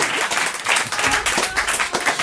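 A television studio audience breaks into steady applause, loud and continuous, with a few voices faintly audible in the mix.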